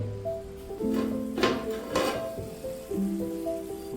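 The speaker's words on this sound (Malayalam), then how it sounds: "ഇനി മൂടി വെച്ച് ഒരു 4 to 5 minute medium to high ഫ്ലെയിമിലിട്ടൊന്ന് cook ചെയ്യാം." Mixed vegetable bhuna masala cooks in a covered pan over a medium-high flame, giving a continuous soft sizzle broken by a few clinks and clatters of utensils and lid.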